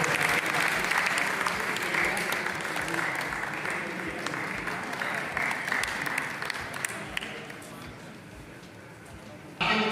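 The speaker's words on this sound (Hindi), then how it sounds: "पुनः ताली बजा के इनका अभिनंदन करें।" A hall full of teachers at a district education conference in Udaipur claps steadily and loudly for several seconds, dense sustained applause under a faint voice.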